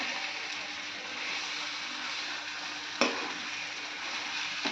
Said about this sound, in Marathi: हे सर्व मसाल्यात चांगले 5 ते 10 मिनिटं चांगला मसाला लागेपर्यंत परतवून घ्यायचे